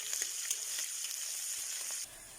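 Crushed onion and garlic hit hot oil for tempering and sizzle steadily with a bright crackling hiss and a few stirring clicks, then the sizzle drops abruptly near the end.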